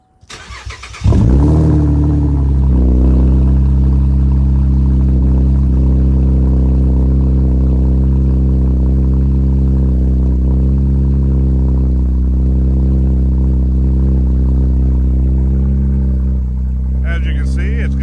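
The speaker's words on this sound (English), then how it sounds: "As you can see, it's got a nice throaty sound, especially for a V6" Fifth-generation Chevrolet Camaro V6 with an aftermarket exhaust fires up and revs into a loud, throaty, sustained drone that settles toward idle, with a voice talking over it near the end.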